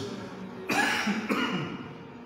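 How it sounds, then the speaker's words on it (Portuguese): A preacher at a church teaching service coughs twice in close succession, two short harsh bursts near the microphone against a quiet room. "Estou tossindo."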